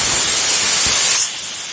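Cauliflower stalks hit hot oil with fried garlic and sizzle loudly, a dense steady hiss that drops a little in level after about a second and keeps going.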